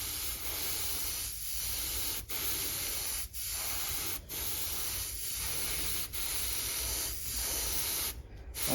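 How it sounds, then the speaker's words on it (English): Acrylic paint is sprayed on in a light coat, a close, steady hiss of spray broken by about eight brief pauses at a regular rhythm, ending in a final short burst. "so let's just get this sprayed now. I'm just going to start off with a light coat"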